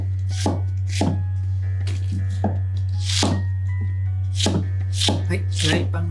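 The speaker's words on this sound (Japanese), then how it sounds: "玉ねぎも、あまり大きくならないようにこちらもカットしておきます。" A knife chopping onion on a cutting board, a dozen or so crisp, irregular cuts close up over a steady low electrical hum.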